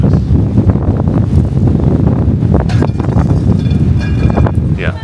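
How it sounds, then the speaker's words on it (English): Strong, gusty wind buffets the microphone in a constant low roar, with faint voices occasionally audible beneath it. "although it's rather windy"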